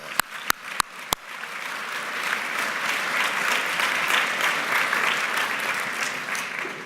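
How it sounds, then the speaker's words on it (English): Audience applause fills a room at an award dinner, opening with a few sharp, separate claps before dense, even clapping builds and carries on steadily at moderate volume, with no talking over it. "Let's give our grant sponsors a round of applause."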